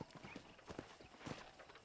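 Horse hooves clip-clop in the Red Dead Redemption video game, a quick uneven run of soft hoof strikes over about two seconds at low level with no talk.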